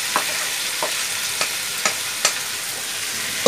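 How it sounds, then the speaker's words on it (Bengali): Cabbage and egg fry in a pan under a constant sizzle, while a utensil stirs with six or so distinct scraping strokes at a steady pace. "এটা এখন নাড়তে হবে।"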